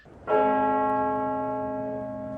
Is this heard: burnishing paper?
no